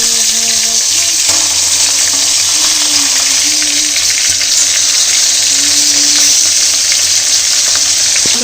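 Spice masala fries in hot oil for a spicy bhata (eggplant) bharta, a steady loud sizzle that stays close and continuous, with faint stirring and scraping beneath it and no talking.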